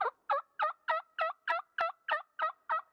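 A wild turkey calls during an Oregon spring hunt: a loud, close series of about ten evenly spaced, throaty calls in a steady rhythm, with no other sound around them.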